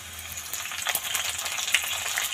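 Tomatoes go into a pan of sizzling fried onions for a spicy chickpea-greens bhaji, making a close, crackling fry sound with faint stirring and no talk.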